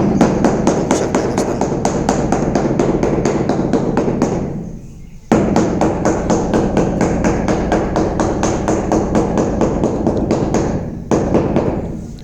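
A hammer taps rapidly and steadily on floor tiles being set into cement, dozens of close, sharp knocks in a quick rhythm with two brief pauses.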